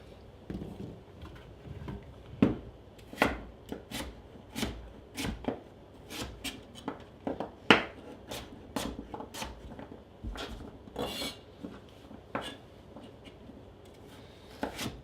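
A knife dicing butternut squash and apple on a cutting board, close crisp chops in an irregular steady series, some louder strikes among softer taps, with no talking.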